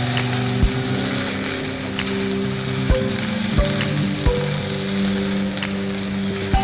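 Spices are stirred into a simmering chamadumpala (colocasia leaf) curry in a pan, with a steady sizzle and intermittent sharp clicks of a spoon against the pan, close and loud, with no talking.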